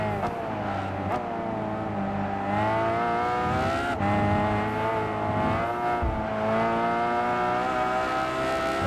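Race car engines in Gran Turismo 5 drone loudly and steadily, with rising and falling revs and gear shifts as the cars accelerate through the race, and no talk over them.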